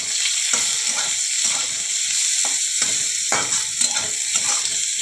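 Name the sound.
chopped onions sizzling in hot mustard oil with nigella seeds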